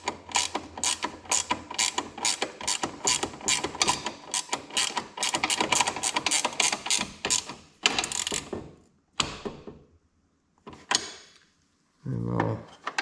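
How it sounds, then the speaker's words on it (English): A wrench ratchets in quick, even clicks while tightening a square-headed bolt on the transmission of a Toro Recycler Personal Pace mower. The rapid run of clicks gives way to a few separate metallic clanks. "So I'm going to tighten the smaller one first, since that's got a square head on it."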